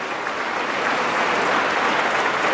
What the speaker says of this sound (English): Can we have a huge round of applause to Colonel Saab for that brilliant, detailed